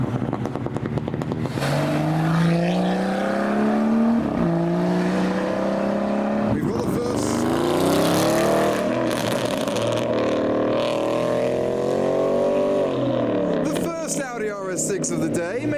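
Modified German cars arrive at a car show, engines revving loudly with rising and falling tones and pops and bangs, close by and sustained, with people talking over the noise.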